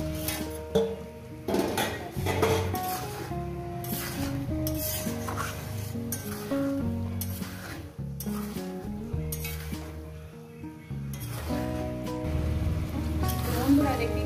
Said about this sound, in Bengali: দেখতেই পাচ্ছেন আমি কীভাবে মশলাটা কষিয়ে নিচ্ছি